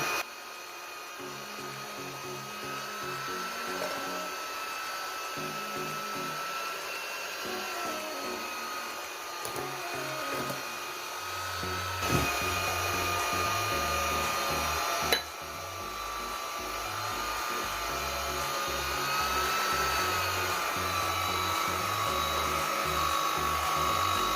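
Electric mixer whisking cake batter with flour and baking powder, a continuous whirring motor hum with shifting pitch and occasional bumps as the beaters work the bowl, close and steady throughout.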